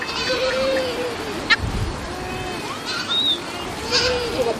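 A goat bleats in a rural Himba village setting, with quavering calls rising over a steady outdoor background and other faint animal sounds nearby.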